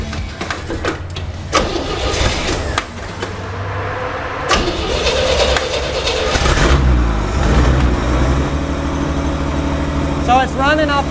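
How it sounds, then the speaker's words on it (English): A 1959 BMW Isetta engine, revived after decades and short on fuel, runs roughly close by with sputtering bursts and revs before fading out and dying, while people talk over it. "Running off the gas that we got in, you can tell it's about to die, and it died."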